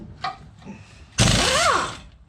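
An impact wrench works the wheel bolts on a Chevy Silverado 4x4, giving a single loud, close burst of about a second with a rising and falling whine, after a few faint clanks.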